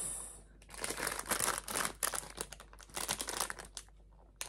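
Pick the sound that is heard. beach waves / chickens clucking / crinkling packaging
crinkling packaging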